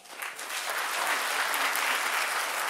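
An audience breaks into applause that swells quickly and holds as a dense, sustained patter of clapping hands.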